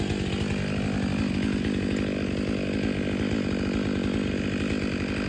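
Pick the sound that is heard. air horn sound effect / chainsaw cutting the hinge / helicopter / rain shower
chainsaw cutting the hinge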